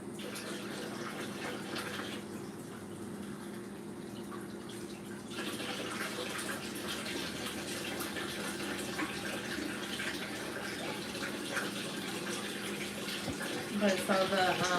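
Chickpeas are rinsed under a running kitchen tap, a steady hiss and splash of water that carries on throughout, getting slightly louder partway through, with occasional clinks.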